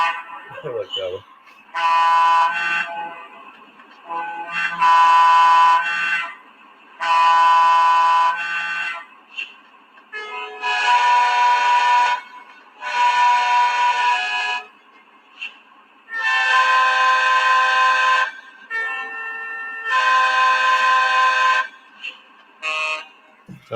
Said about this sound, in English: these are all quillable horns.